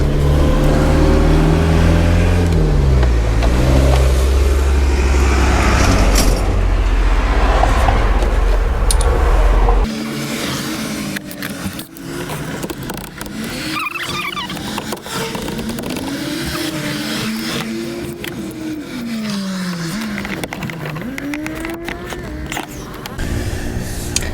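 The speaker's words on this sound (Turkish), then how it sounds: "Çok yakından şey yapıyorlar, geçiyorlar arabalar." Cars rush past very close to a parked caravan, a loud roaring pass at first, then quieter engine swells and whooshes coming and going over the following stretch.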